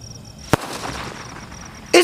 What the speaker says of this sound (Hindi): एक रेड और एक ग्रीन कलर की बॉल देखने को मिल रही है इसके अंदर हमें अजंता के 12 शॉट के अंदर